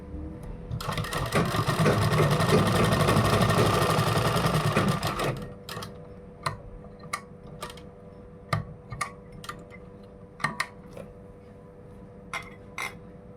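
A sewing machine runs loud and steady for about five seconds, stitching a kurta, then stops, leaving sharp ticks and clicks of fabric and machine handling.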